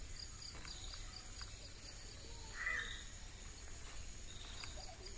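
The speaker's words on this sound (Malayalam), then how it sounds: "ഇടയ്ക്ക് നല്ല കിളികളുടെ ശബ്ദങ്ങളൊക്കെ ഉണ്ട്." Birds call faintly in a shaded, cool garden where elephant foot yam is planted, a single distant chirp standing out over a constant high insect drone and soft outdoor hush.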